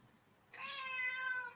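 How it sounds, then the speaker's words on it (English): A pet cat lets out a single drawn-out meow, close and clear, rising and then holding steady for about a second against a quiet room with no one talking. "That's my cat."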